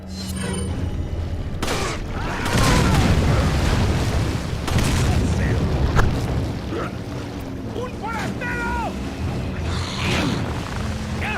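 A grenade blast in Resident Evil 4 bursts out of dense, continuous game noise, followed by rumbling debris and scattered smaller impacts that keep the mix busy throughout.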